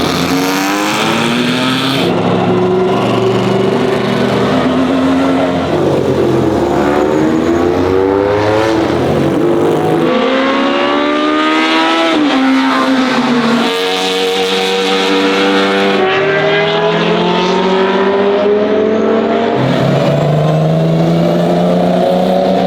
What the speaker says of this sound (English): It is really cool to see that Breadvan just driving over here casually between all these other